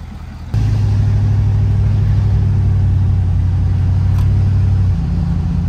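A Ford F250 Platinum pickup truck engine starts up and settles into a loud, steady low rumble, shifting pitch slightly near the end as it pulls away.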